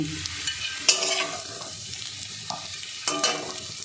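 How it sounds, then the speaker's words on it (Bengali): Cauliflower frying in a pan until reddish-brown: a close, constant sizzle broken by sharp clattering stirs of a spoon against the metal, with no voices. "ফুলকপিটা ভাজা হয়ে গেছে"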